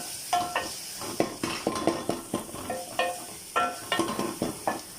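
Ginger garlic paste fries with golden onions in a pan while a spoon stirs it, giving a steady sizzle broken by repeated clinks and scrapes of metal against the pan. No one speaks.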